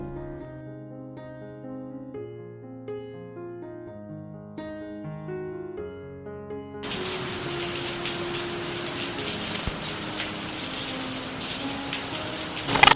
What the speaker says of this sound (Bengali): দেখো রান্না করতে করতে কিন্তু মুষলধারে বৃষ্টি চলে এসছে।